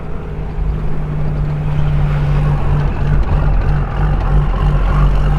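A 4x4 with a coil suspension conversion rolls off the road onto rough ground, its engine droning steadily and loudly up close with a constant low hum and rumble throughout.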